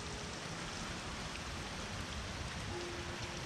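Steady rain falls on an abandoned, partly dismantled shopping centre in Belgium, a continuous dense hiss of drops with no pauses and no voices.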